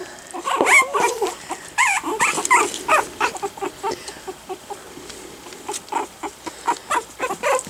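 A three-week-old puppy yips, whines and squeaks in quick irregular bursts, close and fairly loud, with short pauses between the cries.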